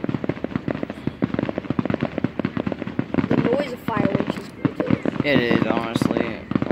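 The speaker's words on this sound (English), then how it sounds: "The noise of fireworks is pretty good." Rapid crackling fireworks bursts keep up almost continuously at close range, with people talking over them throughout.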